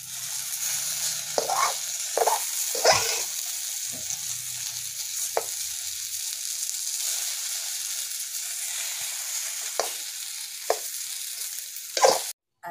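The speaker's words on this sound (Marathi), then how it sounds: "हलवून घेते यंदा, आता शिजत आली" Okra stir-frying in a pan over a wood-fired chulha stove, a steady close sizzle with several scraping stirs and clinks of the utensil spread through, no voices.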